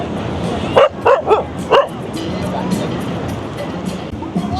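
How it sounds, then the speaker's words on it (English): A dog barks four times in a quick cluster, fairly close, over background chatter and ambient outdoor noise at a busy beach with lounges in Seminyak, Bali; a faint yip follows later. "There's the dog barking at me."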